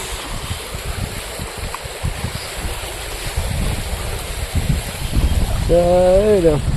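Heavy rainwater rushes loudly along a residential street in Kutch during a downpour, a constant churning wash growing stronger toward the end, where a brief tonal wavering sound rises over it.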